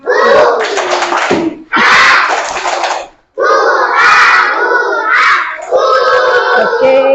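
Classroom schoolchildren perform a rhythmic clapping chant together, loud and close, with bursts of claps and shouted voices in several phrases separated by short pauses.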